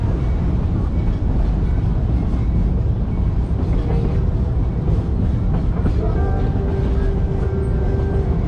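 Georgetown Loop Railroad train running with a steady, loud rumble and rolling rail noise throughout, a faint whistle-like tone rising near the end.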